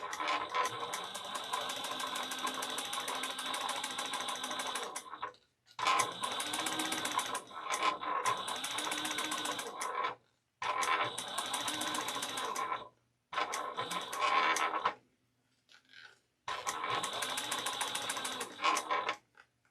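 A sewing machine back-stitches through bag fabric in several bursts of rapid, steady mechanical whirring, each a few seconds long and separated by short quiet pauses, heard close up with no talking.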